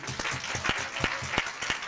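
A church audience claps in a short run of distinct, fairly regular hand claps, a handful of people rather than a large crowd, with a faint murmur of voices underneath.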